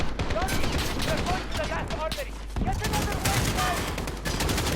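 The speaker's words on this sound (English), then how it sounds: "I think I shot that Farrell woman" Gunfire in the Modern Warfare Proxy War campaign, mission 4: rapid bursts of shots and clattering impacts, with a voice talking over the fire and a brief lull midway.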